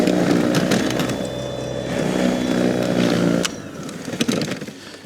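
Milwaukee battery-powered rubber broom sweeping wet snow, a loud, steady motorized whir close by that drops in pitch and strength near the end as the battery fades.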